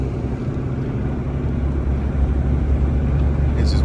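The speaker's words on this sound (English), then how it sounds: "you can hear the motor on this thing" A truck engine hauls a loaded 24,000 lb GVWR hooklift trailer up a steep street, a loud, steady low rumble heard throughout with some wind buffeting on the microphone.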